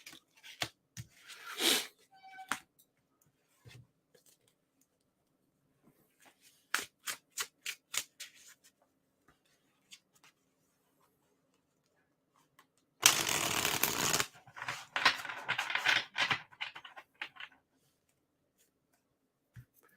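Tarot cards being shuffled by hand, with several brisk bursts of riffling and flicking spread out among quiet gaps, close and fairly soft, with no talking over it.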